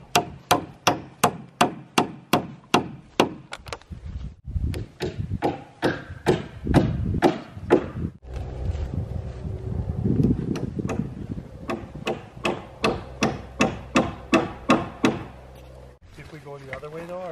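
Hammer tacking nails into plywood sheathing outdoors on a cabin build, a fast run of loud, sharp, evenly spaced blows in bursts, with a person talking in the pauses between runs.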